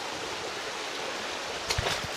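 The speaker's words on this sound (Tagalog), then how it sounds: "Nandito yung isa pang falls." Water from a waterfall and river stream rushes in a steady, dense roar, loud and close, with a brief splash near the end.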